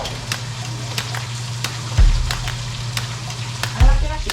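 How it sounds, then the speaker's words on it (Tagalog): Food sizzles steadily in a frying pan while pieces are fried for escabeche, a continuous close crackle with a couple of louder bumps as items are turned over. "Piniprito ko."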